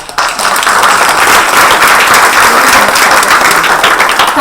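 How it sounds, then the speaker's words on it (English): A live audience at a book launch event claps loudly and steadily, a dense, continuous wash of applause from many hands filling the room without any voices on top. "The applause needs to be a little louder."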